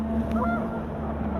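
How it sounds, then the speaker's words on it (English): Panicked geese honking in the video game What Remains of Edith Finch, a brief close honk or two over a steady windy hum. "panicked geese appeared and quickly went"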